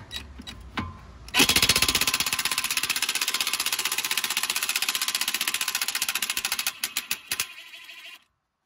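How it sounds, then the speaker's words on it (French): A power tool rattles rapidly while undoing the stabilizer bar link on a VW Polo front suspension, a loud rapid hammering burst lasting several seconds after a few light clicks, then stopping abruptly. "je vais venir dévisser cette partie là"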